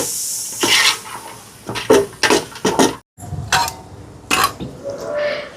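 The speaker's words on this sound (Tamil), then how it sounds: "கலந்து விடுவோம்." Spoon stirring ingredients, including plums and cashews, in a metal cooking pot for an Easter lunch dish, with repeated scraping clinks and knocks in uneven bursts, close and fairly loud.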